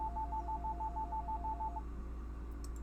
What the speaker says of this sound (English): And there's the old afternoon phone call